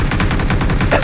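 Rapid automatic gunfire rattles in a fast, continuous burst from a PUBG update 2.8 match, loud and close, filling the whole moment.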